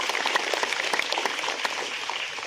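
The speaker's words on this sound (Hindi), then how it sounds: "हमरे जोर से ताली बजा दे।" A gathered audience at a church commemoration claps loudly and steadily, dense overlapping hand claps forming a continuous roar that thins slightly toward the end.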